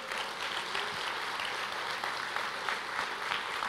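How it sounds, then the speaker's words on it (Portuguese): Church congregation clapping during a sermon, a moderate, sustained wash of applause filling a large room, fairly even throughout with no voices standing out. "Você pode aplaudir o Senhor?"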